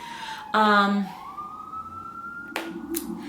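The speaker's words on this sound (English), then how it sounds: "Sorry for the sirens." A police siren wails and rises briefly in the distance on a New York city street, mixed with a short burst of other street noise and a sharp click.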